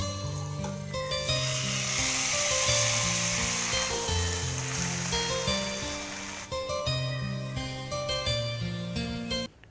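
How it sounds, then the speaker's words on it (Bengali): Fish roe cakes fry in hot oil with a steady, bright sizzle that runs the whole time, while tonal background music plays over it and no one speaks. "এবার সেম প্রসেসে বাকিটাও এভাবে ভেজে নেব।"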